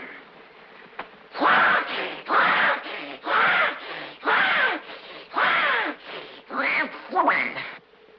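A voice rasps out a rhythmic saw imitation, about nine evenly spaced harsh back-and-forth strokes like a handsaw cutting through wood.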